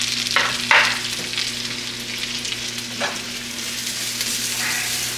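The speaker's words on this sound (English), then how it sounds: "we're gonna let that sizzle for a minute" Steady crackling sizzle of food frying in a pan, with a few light clinks and scrapes of stirring over a low hum.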